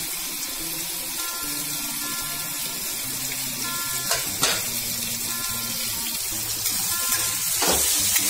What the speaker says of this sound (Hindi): मैंने फ्रिज से निकाल लिया है इसे, अब हम इसे तल लेंगे